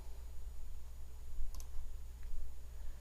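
A single crisp computer mouse click on a website link stands out briefly against a low steady hum in a quiet room, with a fainter tick just after.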